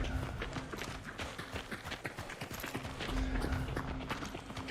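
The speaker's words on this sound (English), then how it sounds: "You just heard a horse freak out." A panicking horse in the game Hunt: Showdown, its hooves clattering in a rapid, uneven run at close range over a steady background din, with faint voices underneath.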